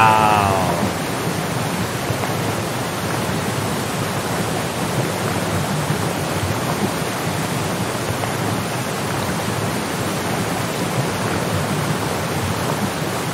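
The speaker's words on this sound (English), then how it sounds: "Waterfalls are pretty cool." A steady, full roar of falling water from a waterfall, constant and loud throughout with no breaks, like a broad wash of rushing spray.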